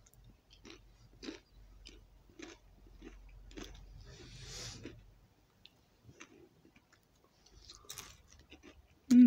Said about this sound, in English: these, no, it's got a nice light crunch to them